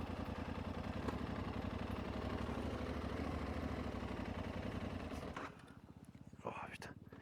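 Trail motorcycle engine running on a slippery muddy climb, a close, steady low throbbing idle that drops and roughens near the end, with a rider speaking quietly over it.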